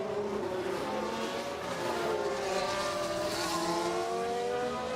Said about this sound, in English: Sounds like he's running an older engine.